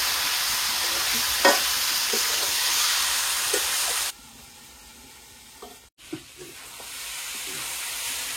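Chicken meat is stir-fried in a pan, with a loud, constant sizzle and occasional stirring scrapes. The sizzle drops sharply about halfway through and continues more quietly, with a brief clunk.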